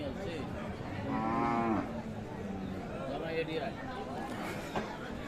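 Cattle low loudly at a livestock market, including a Friesian cow with her heifer calf, with one long moo standing out amid the sounds of the crowd and nearby voices.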